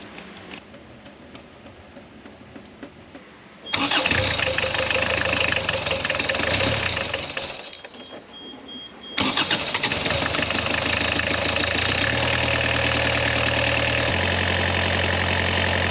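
Diesel engine on a liveaboard boat, freshly bled after a fuel line repair, cranks with a rough churn, drops back, then catches and settles into a loud, steady knocking idle, close by with no talk.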